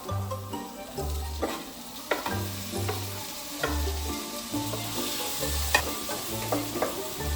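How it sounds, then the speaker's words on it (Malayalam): Chicken sautéing in a pan until golden brown, with a continuous close sizzle and regular stirring strokes scraping the pan about once a second. "ഗോൾഡൻ ബ്രൗൺ നിറമാവുന്നിടം വരെ സോട്ടെ സോട്ടെ സോട്ടെ."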